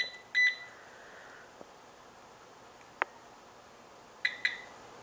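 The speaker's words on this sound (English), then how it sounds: "Just at 1/2 inch it starts beeping." Garrett pinpointer metal detector sounding near a penny: a few short, sharp electronic beeps, some in quick pairs, separated by quiet handling clicks.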